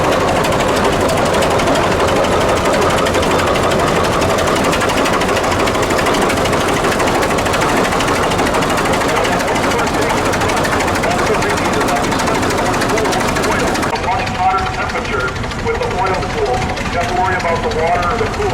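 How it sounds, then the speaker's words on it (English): A Rumley Model X Oil Pull tractor at the Rock River Thresheree in Edgerton, Wisconsin, its engine running with a loud, continuous throbbing chug amid outdoor show noise and nearby talk. "It's a Model X Rumley oil pull."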